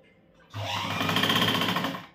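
A sewing machine stitches a katori blouse in one close, rapid burst of needle clatter that starts abruptly, runs about a second and a half, then fades out, with no talking.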